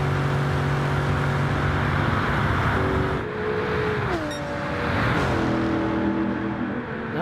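A Lexus RC F and a Porsche race cars in a GT racing game at Mount Panorama, their engines whining continuously, with pitch dropping through gear shifts and braking as the cars sweep past.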